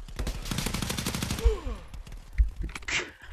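Rapid bursts of gunfire in a VR shooter set on a giant kitchen rats map, rattling loudly and close with sharp individual shots spaced out toward the end.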